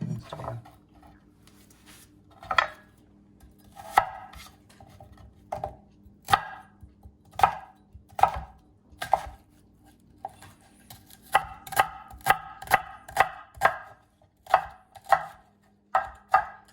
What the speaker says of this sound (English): we're going to slice up the onion. Make it nice and fine slicing.